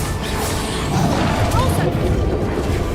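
Confringo and Bombarda blasting spells exploding in the Hogwarts Legacy video game, a loud, continuous wash of booming crashes and whooshing impacts with no pause between them.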